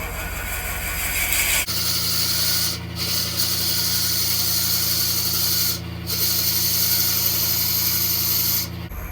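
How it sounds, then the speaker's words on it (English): A lathe running at 400 RPM hums steadily while a Forstner bit grinds into butternut wood with a continuous rough whir, briefly easing off twice before biting again. "I've got the lathe running at 400 RPM to drill with this Forstner bit."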